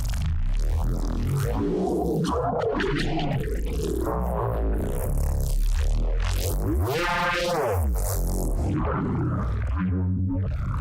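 Phase Plant synth preset called Memory Loss from the aeturnum 2 pack, playing solo: a dense, continuous evolving tone with sweeping, gliding pitches and a bright buzzy swell near the middle, loud and steady throughout.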